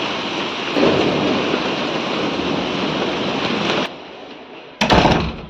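Heavy rain pours with a deep rumble of thunder during a windy monsoon storm, loud and steady, cutting off briefly before a fresh burst returns.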